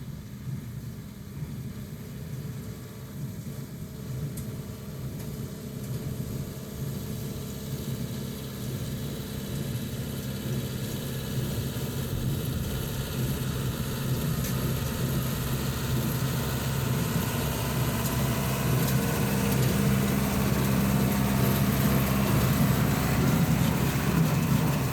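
A John Deere 328 square hay baler picks up hay with its teeth down to the ground, its engine droning in a steady mid-pitched rumble that grows slightly louder and busier over time, with no voices.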